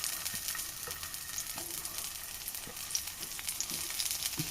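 Tomatoes frying in coconut oil over low flame, giving a steady soft sizzle with faint crackles throughout, heard alone without talk.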